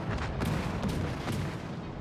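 Naval gunfire rumbles through World of Warships: Legends as a dense, continuous barrage of deep booms with a few sharper blasts standing out, loud and steady throughout.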